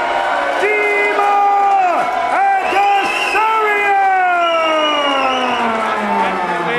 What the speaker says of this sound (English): The decision match splits the crowd, equal cheering and booing.